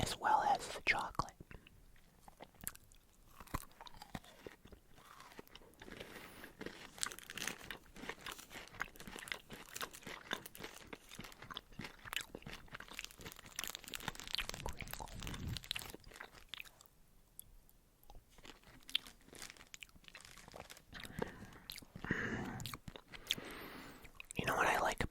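Crunchy chewing of a Crunch chocolate bar with crisped rice, close and intimate, with steady mouth crunches and soft whispering throughout.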